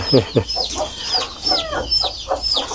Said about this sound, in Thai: แม่ไก่ก็อยู่นู่น